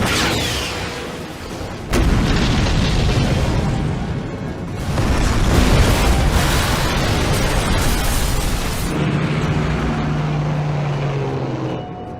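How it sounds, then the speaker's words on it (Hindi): A bridge blown up in a movie battle scene: heavy, sustained rumbling explosions roll on for many seconds with a sharp boom near the start and dense debris roar throughout. "एक और ब्रिज उड़ाने जा रहा हूं।"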